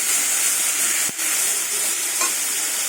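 Banana stem frying in a pan with garlic and pumpkin gives a steady, loud sizzle throughout, broken once by a brief stir or clink about a third of the way in.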